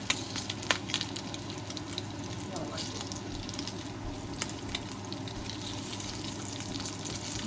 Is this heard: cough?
no